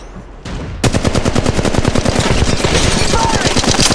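Loud, sustained automatic gunfire in Apex Legends Mobile, a dense rapid stream of close shots rattling steadily after a brief quieter lead-in.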